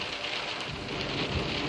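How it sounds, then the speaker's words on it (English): Heavy rain pours steadily in a fierce storm in a parking lot, a dense continuous hiss of drops hitting surfaces with low thunder rumbling underneath, close and enveloping, with no voices. "I'm like literally getting rained on because I don't have an umbrella."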